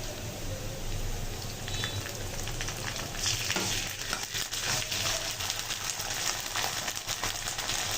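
Onion, garlic, dried chilli, bay leaf, cardamom, five-spice and ginger paste frying and being stirred in a pan, giving a steady, dense sizzle with scattered crackles and occasional scraping throughout, no voices.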